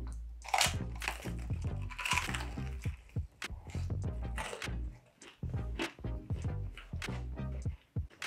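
Loud, close crunching bites and chewing of crisp chicharrones (pork rinds), with dense crackly chomps repeating steadily and no talk.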